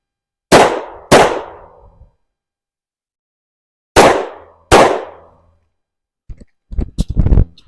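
A Shadow Systems MR920 Combat 9mm pistol fires at a range, four loud close shots in two quick pairs with ringing decay, followed by brief clicks and handling clatter.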